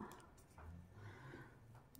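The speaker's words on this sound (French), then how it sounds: "je m'excuse pour les ronflements en arrière-plan. C'est mon chien qui doit bien dormir." A sleeping dog snoring in the background indoors, very faint low rumbling breaths repeating in a slow rhythm.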